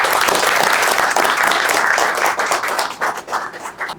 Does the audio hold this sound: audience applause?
yes